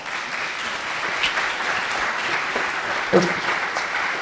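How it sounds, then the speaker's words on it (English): Steady applause from a civic audience at a State of the City address fills the room, a dense even patter of many hands held at one level with a few sharper claps standing out. "So let's give those folks a round of applause."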